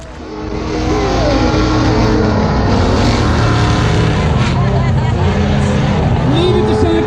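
Ford Ranger offroad truck with a 6-cylinder engine at an offroad expo in Scottsdale, Arizona: a loud, sustained engine roar with revving, heard under a crowd and an announcer's amplified voice.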